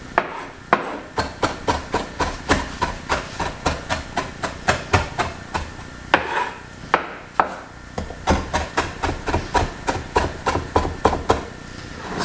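A knife chops fresh herbs for potato salad on a cutting board in a steady series of sharp, close taps with brief pauses between bursts, with no talking.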